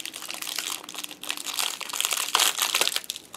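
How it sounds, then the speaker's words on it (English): Plastic packaging crinkles and crunches continuously as small toy doll packages are pulled open, a close, busy rustling that swells and dips over a few seconds with no talking. "I hope this crinkling isn't too loud"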